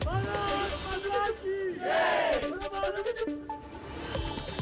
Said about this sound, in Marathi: मुंबईतील बाळासाहेब भवनाबाहेर सेलिब्रेशन कार्यकर्त्यांकडून फटाके फोडून हातात तिरंगा झेंडा घेऊन आनंदोत्सव साजरा करण्यात आला